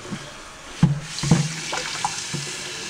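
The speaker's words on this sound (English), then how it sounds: "Put some warm water into it." Warm water runs from a tap into a messy kitchen sink with soap added, a steady hiss broken by a few knocks and clunks, with no talk.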